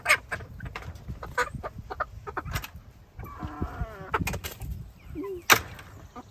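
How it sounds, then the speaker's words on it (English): Buff Orpington chickens cluck and squawk in short bursts, with scattered sharp knocks and rustling nearby; one loud squawk stands out near the end. "These beige chickens are called Buff Orpington chickens."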